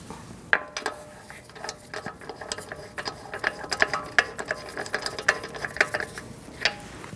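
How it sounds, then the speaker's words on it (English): Socket ratchet threading bolts into a fog light assembly on a 2008-2014 Mercedes-Benz C300, a rapid clicking pawl sounding in uneven bursts close up, with no talk. "You are going to need your socket to do that."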